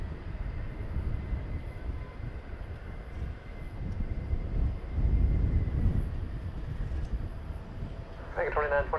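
Aircraft at DFW Airport make a steady, distant, broad roar that swells midway before easing, and a voice briefly speaks near the end.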